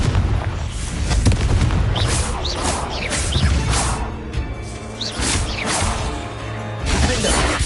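Confringo blasting spells from Hogwarts Legacy, a loud, continuous run of booming explosions and crackling impacts over dense game noise, with several sharp bursts spread across the stretch.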